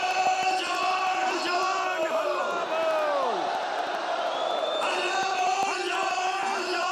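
Enthusiastic crowd shouting and cheering at a Congress party rally in Jammu, a dense continuous roar of many voices with rising yells and whoops, sustained and loud throughout.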